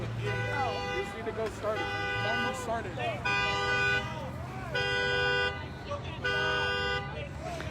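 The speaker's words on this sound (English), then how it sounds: "they're concerned about a car alarm going off" A car alarm at an outdoor street protest blares in repeated bursts of loud, steady tones with short gaps between them, while people talk nearby.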